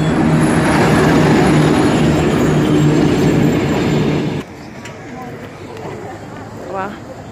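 A Russian passenger train on the Circum-Baikal railway near Irkutsk rumbles past loudly and close with rhythmic clatter, then cuts away to a quieter scene where people talk in the background.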